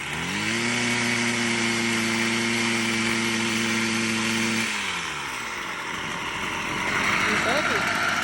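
A Stihl FS38 string trimmer's small two-stroke engine runs steadily after a tune-up, having sat unused for about two years, then drops pitch and sputters as the throttle changes, with a voice talking over it.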